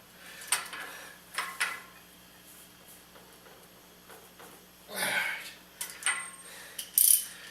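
A ratchet turning the CV axle nut on a 2008 Ford Escape, driver side, clicks in several short, close bursts separated by quiet pauses, with light metallic clinks between them.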